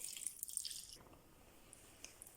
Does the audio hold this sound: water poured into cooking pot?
yes